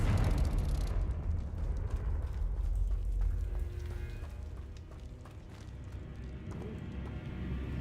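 A Confringo fire spell blasting in a Harry Potter video game, a loud burst of explosive rumble at the start that settles into crackling, rumbling debris and scattered impacts.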